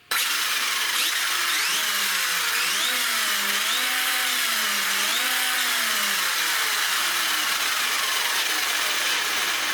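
ARRMA Felony 1/7 scale RC car with its electric motor running, a steady loud high whine that rises and falls in pitch as the throttle changes, close and continuous, with no voices.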